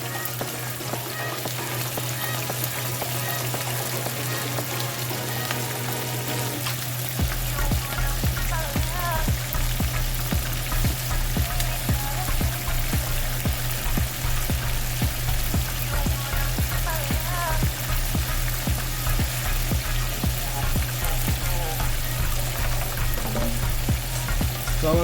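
Chicken wings for Buffalo-style wings fry in oil with a loud, dense, unbroken bubbling sizzle that grows stronger after the first few seconds and holds steady throughout.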